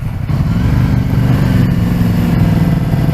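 A Ducati Scrambler motorcycle engine runs with a loud, close, steady rumble, a continuous low throb holding even for a few seconds without pause.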